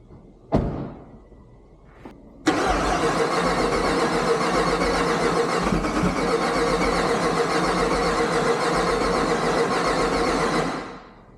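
A car engine starts up for the first time: a couple of short cranking attempts, then it catches and runs loudly and steadily at a fast idle for several seconds before cutting off abruptly, recorded close by.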